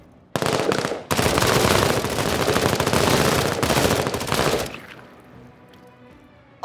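Sustained automatic gunfire in a video game bursts out loud and near, a rapid continuous stream lasting several seconds before cutting off into quieter ambience.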